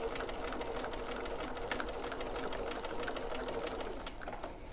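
A sewing machine stitches a fabric gusset around a corner, its rapid, even mechanical clatter running steadily and close for a few seconds, with no talking.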